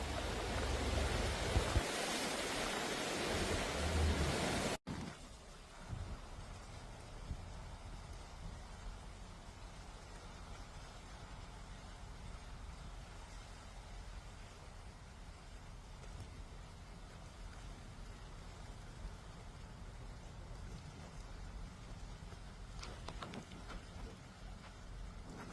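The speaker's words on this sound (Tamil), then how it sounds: "بدت العاصفه بقوه" Heavy rain during a strong storm in Dubai, a steady dense roar of downpour with a loud burst at the start, then continuous wash of rain noise throughout.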